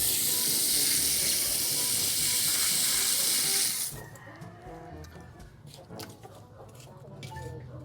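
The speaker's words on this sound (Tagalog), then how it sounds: "Tsaka natin lalagyan ng tubig." Water pours steadily onto the soil around a replanted frogfruit plant, a loud rushing hiss for about four seconds that stops abruptly, leaving quieter rustling and faint background sounds.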